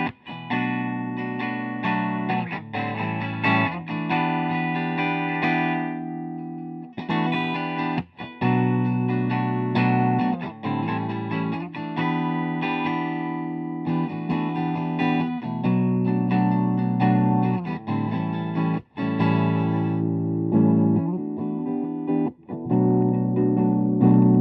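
A Gibson Les Paul Junior electric guitar is played through the clean channel of a Mesa Boogie Mark V 25 amp, with strummed chords and riffs ringing continuously at moderate loudness, with brief pauses.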